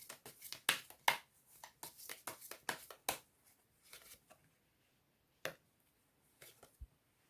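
Message cards are shuffled by hand before a draw, giving a quick run of close, crisp riffling taps and slaps that thin out into a few scattered flicks and a final soft knock.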